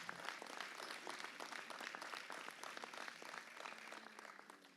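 An audience claps at a town New Year's greetings ceremony in Le Mesnil-Saint-Denis. The applause is steady and fairly distant, with dense overlapping claps throughout.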